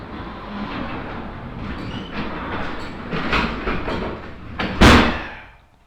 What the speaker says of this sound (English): Let's shut the door and see.